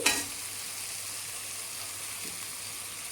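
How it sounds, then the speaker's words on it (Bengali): Fish pieces drop into hot spiced masala in a pan and fry with a steady, close sizzle that starts with a brief splash and holds at an even level throughout. "এবার আমি মাছগুলোকে দিয়ে দিচ্ছি"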